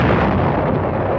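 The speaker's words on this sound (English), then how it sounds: "Guns of the 262-ship United Nations Armada began their point-blank preliminary bombardment" A heavy, rumbling blast from point-blank naval gunfire during the preliminary bombardment by the 262-ship United Nations armada at Inchon, booming loud and sustained with a dense low roar.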